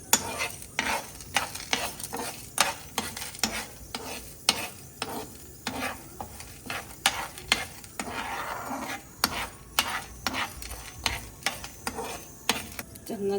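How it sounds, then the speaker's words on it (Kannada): Urad dal, dried chillies and curry leaves roast in a spoonful or two of oil in a pan, with a faint sizzle under brisk, rhythmic scraping and tapping of the spatula, heard near and steady. "ಈಗ ಇದನ್ನು ಹುರಿಬೇಕಾದ್ರೆ 1 ಸ್ಪೂನ್ ಎಣ್ಣೆ, 2 ಸ್ಪೂನ್ ಎಣ್ಣೆ ಹಾಕಿದೆ."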